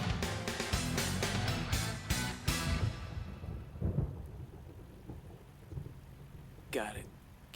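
Rain and thunder in an anime scene from a rainy downhill street race: loud, broad rain noise with a heavy rumble fills the first seconds, then fades to a softer wash, with brief speech later.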